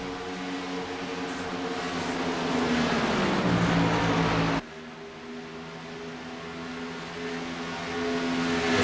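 Racing trucks roar around the Chicagoland oval in a truck series race, a loud, continuous engine drone with shifting pitch that breaks off abruptly midway, then resumes and swells again.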